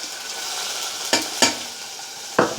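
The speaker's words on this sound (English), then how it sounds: "Now is the time for the mung dal to go in." Mung dal tipped into a pan of browned onions and ginger, producing a soft continuous sizzle with three sharp rattling bursts as the lentils land and are stirred, close and without talk.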